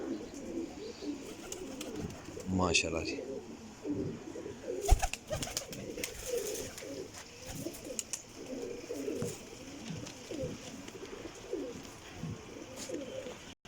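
Pigeons in a rooftop loft coo in low, repeated rolling calls, close and soft, with a brief bird chirp and a few clatters mixed in; someone speaks briefly between the calls.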